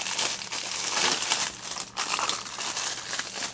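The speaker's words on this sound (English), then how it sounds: "sorry for the crinkling" Loud, continuous crinkling and crackling of plastic packaging holding resin molds, handled close up for several seconds with a brief pause midway and no talking.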